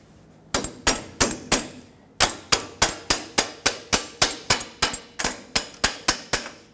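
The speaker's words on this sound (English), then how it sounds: "Use a hammer and tap it backwards." A hammer taps a tie rod clamp on a 2000-2005 Ford Excursion, ringing metallic strikes, about nineteen of them in a steady rhythm after a short pause, sharp and close with no talk.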